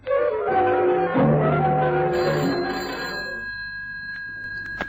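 A telephone rings in a radio drama, a loud, sustained ringing with bright tonal overtones that fills the whole stretch and fades slightly toward the end, with no voices.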